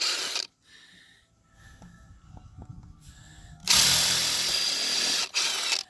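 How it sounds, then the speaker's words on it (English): A power drill with a small attachment pre-drills holes during replacement window installation, sounding as loud bursts of whirring at the start and from about 3.7 seconds on, with quieter clicking and handling noise in between. "he's having to pre-drill with this little attachment"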